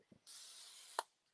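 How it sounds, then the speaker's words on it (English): Cooking spray hisses from a can in one steady burst of about three quarters of a second onto bread dough, close and fairly quiet, followed by a sharp tap. "I'm just going to spread it out with a spatula and some cooking spray."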